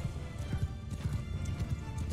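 Horses galloping in the video game Mount & Blade 2 Bannerlord, a fast, rolling drumming of many hooves, close and continuous with battlefield noise behind.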